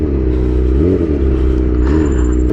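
Front brake of a used motorcycle, squealing and grinding over a loud, steady engine rumble that rises and falls, with a thin high whine appearing near the end.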